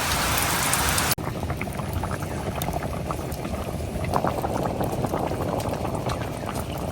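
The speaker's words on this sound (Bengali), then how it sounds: "বৃষ্টি বাতাসে খালি এইদিকে আসে" Wind-driven rain falls in a steady, dense patter with a constant hiss, close by and loud; a brief cut interrupts it near the start before the downpour continues unbroken.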